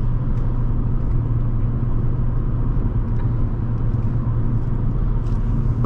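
The engine of a 2012 Audi A4 2.0T Quattro drones steadily and loudly from inside the cabin during a hard acceleration run on a test drive, with no talk over it.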